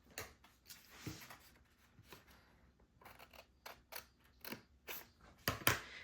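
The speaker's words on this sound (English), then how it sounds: "now where that middle crease is, I'm going to just cut straight down" Quiet, close snips of scissors cutting a paper sheet straight down its middle crease, a series of crisp irregular cuts with soft rustling between them.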